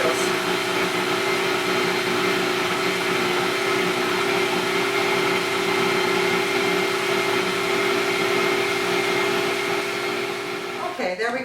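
A kitchen blender whirs steadily, pureeing boiled potatoes with one medium-sized onion for potato pancakes: a loud, continuous motor drone that runs unbroken and stops abruptly near the end.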